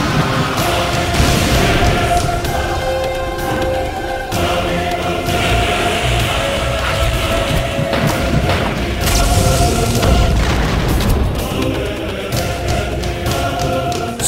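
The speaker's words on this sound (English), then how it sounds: "Break through a herd of monsters and destroy the castle gate." A castle gate smashed in the MU Online Blood Castle video game, with dense, loud, sustained crashing and rumbling booms under a thick layer of game music and effects, with no pauses.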